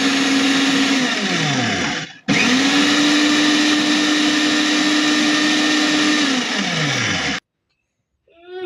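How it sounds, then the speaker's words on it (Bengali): A blender whirs loudly while blending boiled-egg mayonnaise, its motor pitch dropping as it winds down, briefly stopping, then running again for several seconds before cutting off into quiet. "আর একবার ব্লেন্ড করে নেব, তাহলে এটি হয়ে যাবে"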